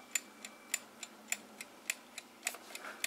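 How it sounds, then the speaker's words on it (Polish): Steady mechanical ticking from the timer of a Gat Splendida electric moka pot, sharp bright clicks at an even pace of roughly three per second, close by with a quiet background. "Tutaj mamy timer. Jak słychać tyka."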